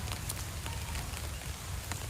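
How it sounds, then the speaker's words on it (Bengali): Steady rain falls continuously in a hot-weather downpour, a dense even hiss of drops striking surfaces with scattered louder patters, unbroken and close throughout with no voices. "বৃষ্টি হয়েই যাচ্ছে, দেখো"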